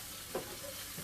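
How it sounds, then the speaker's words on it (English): Spices stirred in a hot pan for jambalaya, a faint, even sizzle with a single soft scrape of the spoon, brief and quiet, no talking. "So I'm going to stir these around."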